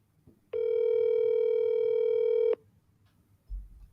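A telephone tone during a call-dialing session: a single steady electronic tone held for about two seconds, loud and clear, followed by a faint thump.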